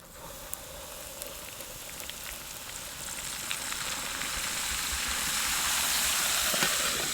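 Oil goes into a mixed spice masala for a mango and brinjal pickle, giving a steady hiss and sizzle that slowly builds louder over several seconds, close and without talk.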